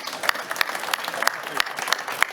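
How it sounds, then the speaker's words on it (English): Audience applause for panelists at a telecom industry conference on Open RAN, a moderate, even patter of clapping with a few sharper individual claps standing out. "Let's give the panelists a round of applause, please."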